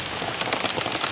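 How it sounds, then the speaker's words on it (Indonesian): Steady rain patters densely on a surface outdoors, a close, even hiss with scattered drop taps and no voices. "Hujan ya."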